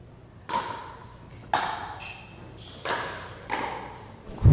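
Pickleball paddles strike the ball in a men's singles match, several crisp pops spaced about a second apart in an open court, followed by a louder thump at the end.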